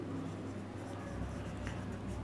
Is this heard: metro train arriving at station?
no